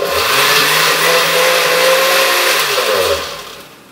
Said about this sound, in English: There you have it. South America in a blender.